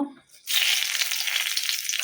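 Bay leaf and whole dried chilies dropped into hot oil in a kadai for tempering. A brief quiet gives way to a loud, steady crackling sizzle.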